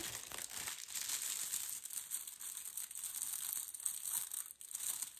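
Paper packaging around a Temu paper cutter crinkles and rustles steadily as it is unwrapped close by, a continuous dry crumpling with occasional tearing.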